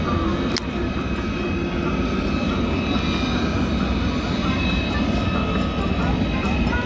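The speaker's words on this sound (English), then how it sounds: "As our A-10s taxi in, what an awesome display." A-10 jet aircraft taxi at an air show, their engines producing a loud, constant roar and high whine, with a person talking over the noise.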